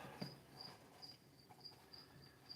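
Crickets chirp faintly in a steady repeating rhythm of short high trills against a quiet background.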